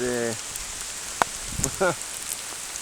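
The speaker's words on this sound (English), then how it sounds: "And it's still raining very heavily, and it's a bit windy as well." Heavy, windy rain in woods on the Isle of Arran fills the background with a steady, dense patter throughout, with a few brief tonal chirps and clicks rising above the wash.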